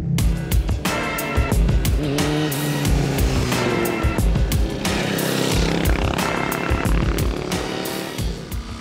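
Motorcycle ridden on a track, engine revving and shifting in rising and falling bursts with sharp pitch changes, loud and close, interrupted by brief throttle cuts, no talk.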